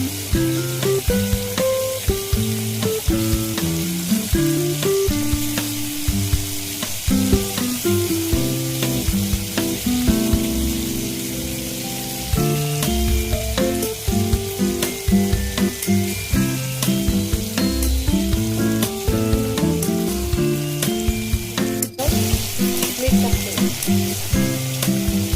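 Cabbage, peas and carrots frying for Mumbai-style pav bhaji, a loud steady sizzle with spoon stirring, heard alongside background music and no talking.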